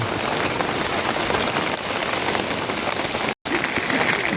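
Loud, steady monsoon downpour over cotton fields patters and hisses on nearby surfaces, broken only by a brief instant of silence near the end.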